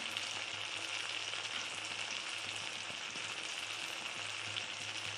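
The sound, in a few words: frying spices, chilies and ginger paste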